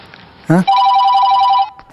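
A lost mobile phone rings with a loud, steady electronic tone held for about a second, just after a brief voice-like burst, then cuts off.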